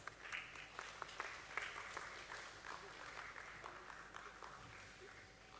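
Applause rises from the audience at a stock exchange listing ceremony at BSE for Borosil Scientific as a team is called to the stage. The clapping is faint and distant, with scattered sharp claps over a soft room hum.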